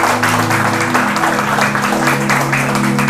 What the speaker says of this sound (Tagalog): Kaya palakpakan po na natin ang Panginoon.